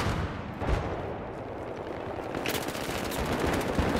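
Gunfire in the video game Battlefield 3, a continuous dense barrage of shots and battle noise, louder toward the end.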